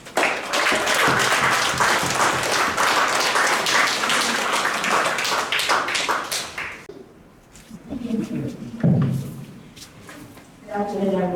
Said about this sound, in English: Please give a round of applause to Melita Charlie.